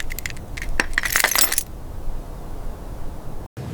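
Old keys to a 1969 Ford Mustang Boss 429 jangle and clink in a quick metallic burst for about a second and a half, then stop, leaving quiet room tone.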